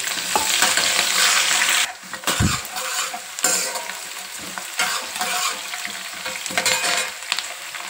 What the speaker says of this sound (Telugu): ఈ తాలింపు అంతా వేగినాక ఉల్లిపాయ ముక్కలు